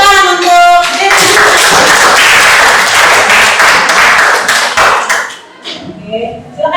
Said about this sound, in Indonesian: tepuk tangan untuk Devi